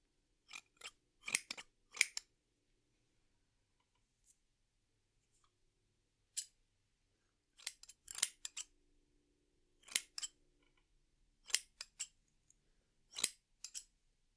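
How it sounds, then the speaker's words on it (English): Several pairs of scissors make crisp, close snipping sounds in short clustered bursts separated by quiet pauses, soft and intimate in a quiet room. "That's why I have several different scissors today"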